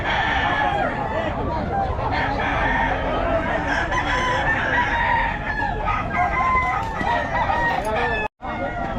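Several roosters crow and chickens cluck continuously on a farm raising gamefowl broodcocks for sale, a dense, close chorus overlapping with people talking nearby.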